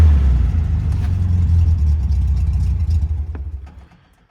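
A 1969 VW Beetle engine runs at a steady, loud low idle close by, then sputters and dies away toward the end.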